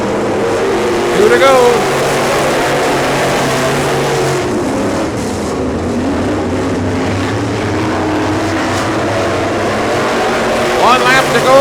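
Race cars circle a track during a late-race dirt track event, a continuous loud engine roar rising and falling as cars pass, with a race announcer talking over it throughout.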